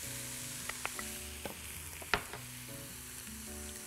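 Minced garlic sizzles and fries in a pan of oil and butter with onion, carrot and flour, a steady close crackle with a few sharper pops and a light stirring scrape.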